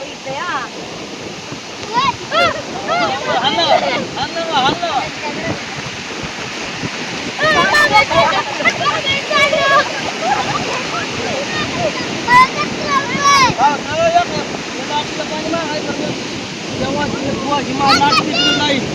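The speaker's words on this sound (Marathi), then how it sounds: "बघितलं ना तो समुद्र" Rushing, wind-buffeted roar of Arabian Sea waves on Danda beach, Alibag, loud and continuous with surging swells, while voices talk faintly underneath.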